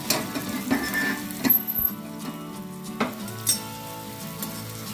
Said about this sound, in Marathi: पकडीच्या साहाय्याने आपण जरा तेल लागेल कोळंबीला अशा पद्धतीने त्या फ्राय करायच्या आहेत.